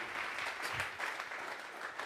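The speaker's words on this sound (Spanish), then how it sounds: "Vamos a regalarle ofrenda de palmas al Dios de la gloria" A church congregation clapping together during a Bible study service, a continuous fairly even patter of many hands at moderate level, with no voices on top.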